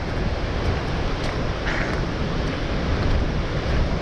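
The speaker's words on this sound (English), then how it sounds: "I don't even know anymore what's the rain and what's the waterfall." Broadband roar of Gullfoss, the Golden Falls waterfall in Iceland, pouring in heavy rain, a steady dense wash of water noise that stays loud and unbroken from start to finish.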